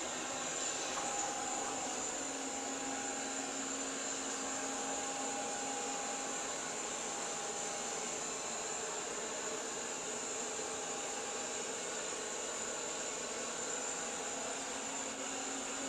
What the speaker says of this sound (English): I'll just bump it up to max suction power and we'll see how it does